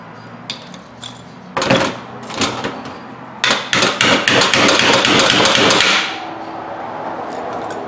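A tool's hammer side raps on a brake caliper during front pad and rotor work on a 2007 Chevy Malibu, first in scattered knocks, then a fast, loud run of close metallic strikes that stops abruptly.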